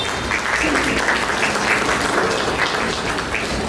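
Crowd clapping at a Sant Rohidas Jayanti ceremony welcoming a guest, sustained and fairly loud, with voices faintly mixed in beneath it.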